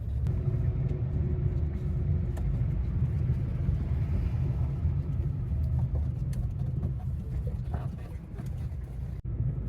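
A tourist bus travels the road from Paro to Thimphu in Bhutan, heard as a continuous low engine and road rumble that eases slightly toward the end, with a sharp knock just before it fades.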